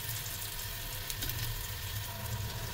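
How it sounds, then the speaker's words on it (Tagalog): Garlic sautéing in a pan for papaitang baka, with a dense, noisy, continuous sizzle that stays loud and even throughout. "Talagang maingay yung pagkiro natin guys."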